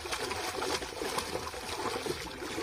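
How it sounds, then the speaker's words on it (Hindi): Water splashes and trickles steadily while someone bathes at a farm borewell, a faint, irregular spatter of pouring and dribbling with no voices. "अब हम नहा रहे हैं देखो उदे में"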